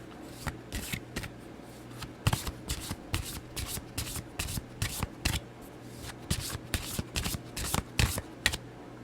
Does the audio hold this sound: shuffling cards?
yes